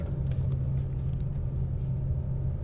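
A car climbs a hill on the road to the Night of the Living Dead filming location near Evans City, Pittsburgh, its engine a steady, close, low rumble throughout.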